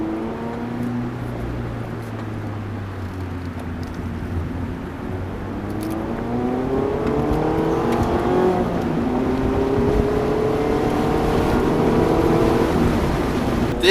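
A 2019 Mazda Miata Club engine pulls steadily on winding back roads, a smooth rising drone with shifting pitch and road rumble, heard from inside the car, building slightly louder toward the end.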